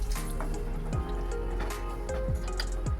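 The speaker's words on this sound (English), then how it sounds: "I'll add some water into it" Water from rinsing a blender pours and splashes steadily into a pan of bagara baingan, with a few dripping, bubbling notes on top, close and continuous throughout.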